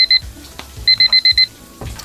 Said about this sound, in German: Ach, guck mal, der Wecker klingelt auch schon.